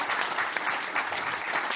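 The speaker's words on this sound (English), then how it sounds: "Let's give her a round of applause." Brief round of applause from a live audience welcoming a guest named Christina to the stage, dense and lively clapping for under two seconds.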